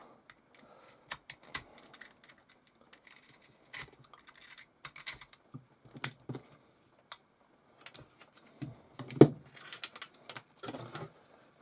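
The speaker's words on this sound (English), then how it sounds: "So I'm going to try trimming just the servo case a little bit." Sharp, irregular clicks and snips come from a plastic servo case being trimmed on a Tamiya Bigwig 2017 RC car, scattered taps and crisp cuts over near silence, with one louder snap partway through.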